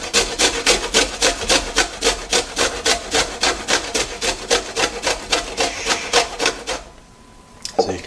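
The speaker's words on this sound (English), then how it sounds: "cheese grater" Food rasped against a cheese grater in fast, even back-and-forth strokes, loud and close, about fourteen rhythmic scrapes before stopping abruptly, followed by a brief clack.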